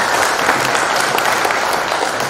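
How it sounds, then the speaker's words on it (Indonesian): A crowd at an Indonesian political party event claps loudly and steadily, a thick continuous wash of hands with no voices over it. "Tepuk tangan sekali lagi untuk"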